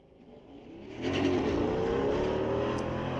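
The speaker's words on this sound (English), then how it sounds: "So the Mercedes or the Volkswagen, who gets to the top end first?" A Mercedes and a Volkswagen launch down a drag strip at a street-legal night race, engine roar swelling sharply after a second into a loud sustained drone, heard from trackside.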